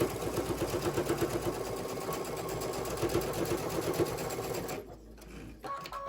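A sewing machine stitches a holiday stocking made from store-bought cotton fabric, running with a steady rapid mechanical chatter for several seconds before stopping near the end, followed by faint handling noises.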